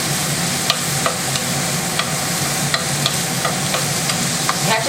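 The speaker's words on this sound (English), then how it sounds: "we're going to crisp it up for those pancetta or guanciale, either one with the bacon" Pancetta or guanciale crisping in a hot pan, a steady close sizzle and crackle of frying fat with regular clicks and scrapes of a wooden spoon stirring the pieces, no voices.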